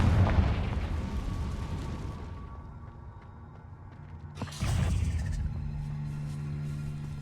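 A Confringo fire-blast spell in Hogwarts Legacy: a rumbling explosion fades out, then a second sharp blast bursts in near the midpoint and leaves a sustained low roar and ringing hum, no voices.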